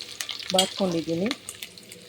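A short burst of frying hiss and sizzle as onions, curry leaves and a bay leaf fry in oil in a pressure cooker, with a voice briefly speaking over it.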